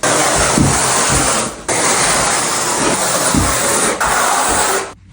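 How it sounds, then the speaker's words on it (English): A 1/4 by 3/8 inch square notch trowel spreads thinset mortar for a Schluter shower pan, making loud, close, rasping scrapes in long strokes with brief gaps between passes. "I'm gonna use a 1/4 inch by 3/8 inch square notch trowel to evenly spread my thin set in straight lines"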